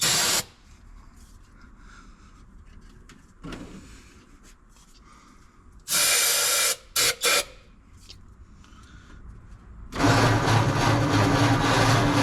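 Starting fluid sprays in short hissing bursts into the engine of a 1948 Ford F5 truck, with a few sharp loud blasts midway and a longer steady hiss near the end, between quieter stretches of workshop background.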